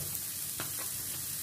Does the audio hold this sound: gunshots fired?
no